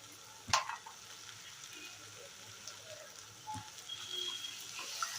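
Spice powders such as garam masala and coriander-cumin powder being sautéed in a pan for anda ghotala, a faint soft sizzle with a sharp clink of a spoon early on and light stirring scrapes.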